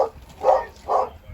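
A puppy barks near a ductless heating and cooling system being inspected: three short, muffled yelps or barks spaced roughly half a second apart, fairly close and alone without talk.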